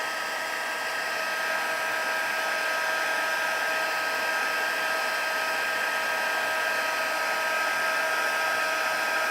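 A heat embossing tool blows hot air over a card, giving a steady, even whirring hum like a small hair dryer that runs unbroken and close throughout.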